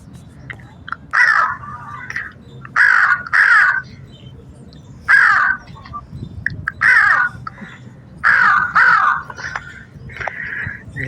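A voice imitates the call of a Himachal crow with loud, harsh repeated caws in short bursts separated by quieter pauses.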